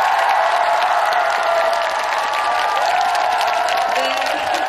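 An audience at a live stage show in Daegu applauds and cheers, a dense, steady wash of clapping and crowd voices that holds at an even, fairly loud level throughout.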